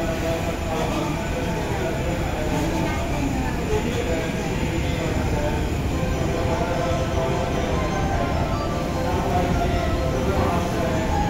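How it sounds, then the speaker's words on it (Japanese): An E233 series commuter train departing Shinjuku Station rumbles steadily with rolling wheel noise and a faint squeal, while a platform announcement voice speaks over it. "Please stand clear of the closing doors."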